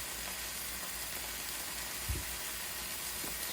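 Meat searing in a hot pan while cooking Chateaubriand gives a steady, quiet sizzle that runs throughout, with a brief soft knock near the middle.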